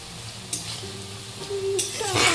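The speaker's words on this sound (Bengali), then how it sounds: "মা এখন কিন্তু গাজরগুলোকে ভেজে নিচ্ছে" Thin, long carrot strips fry in hot oil, giving a soft, steady sizzle with a few stirring scrapes and a louder burst of crackle near the end.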